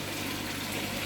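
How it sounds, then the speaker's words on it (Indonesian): Water from a waterfall in the middle of a koi fish pond pours fairly hard in a steady, continuous rushing wash that is close and constant, with no voices. "Air terjun juga ada di tengah bagian kolam Sobat Koi,"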